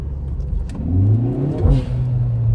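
A Kia Forte GT turbo engine revs hard and climbs in pitch, then a quick hiss from a GFB hybrid blow-off valve bursts out as the revs drop before the engine keeps droning.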